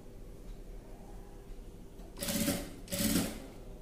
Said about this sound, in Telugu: ఇక అన్ని కూడా ఇలాగే స్టిచ్చింగ్ చేసుకుంటూ రావాలి